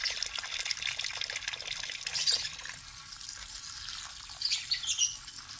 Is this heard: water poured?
yes